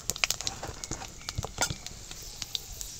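A bay leaf, dried chilli and five-spice seeds fry in hot mustard oil, giving sharp, scattered crackles and pops at an irregular, lively pace that thins out over a few seconds.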